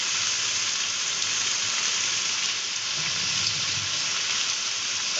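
Ginger-garlic paste and chopped tomato hit hot oil in a pan while cooking an egg and red lentil dish, giving a steady, even, hissing sizzle throughout with no talking.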